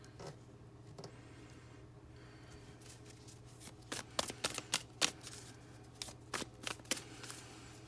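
Tarot cards are shuffled and tossed down, first as a soft riffle and then as a run of sharp, close slaps and flicks in quick irregular bursts, with no voice heard.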